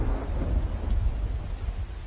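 Deep, loud thunder rolls through a Skyrim thunderstorm, a heavy low rumble that fills the whole moment over a background of falling rain.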